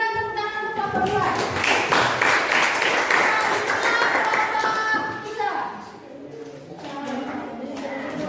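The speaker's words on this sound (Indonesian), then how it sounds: "selanjutnya berikan tepuk tangan untuk kelompok 2" Classroom applause for the second student group, a dense burst of clapping with children's voices mixed in, loud at first and tapering off toward the end with talk underneath.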